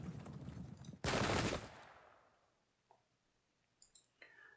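A sharp burst of gunfire from units in the Pike and Shot video game, with a loud blast that decays into a quiet tail. Faint clicks and small interface blips follow.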